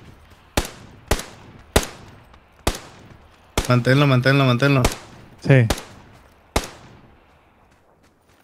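Single gunshots ring out in PUBG, seven or so sharp cracks spaced about half a second to a second apart, loud and close with decaying tails, while someone speaks Spanish briefly between them.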